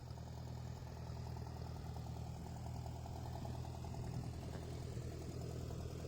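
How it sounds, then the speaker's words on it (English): Tractor engine idling steadily at moderate distance during loading onto a trailer, a continuous low rumble with faint rhythmic mechanical ticking and no talk. "loading the tractor."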